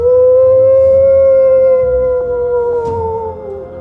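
A voice imitates a ghost's howl with a loud, long, wavering moan that slowly sinks in pitch and fades out near the end.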